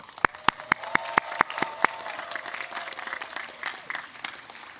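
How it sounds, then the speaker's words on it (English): Audience applause at an outdoor beachside engineering college commencement: a few sharp, evenly spaced claps ring out first, then the crowd's clapping swells into a steady, broad patter with scattered cheers. "Let's have a big round of applause for all your achievements here at the beach."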